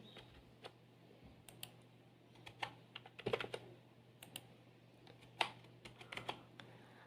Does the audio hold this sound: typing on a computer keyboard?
yes